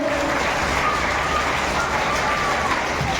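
Audience applause at a community gathering of a Madhya Pradesh Muslim backward-class development council, a steady wash of many hands clapping that carries on loudly for the whole stretch with no voices over it.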